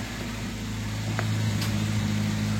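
A Citroën BX 14 petrol engine runs at a steady idle with a low, even hum throughout, close by, with a brief faint click partway through.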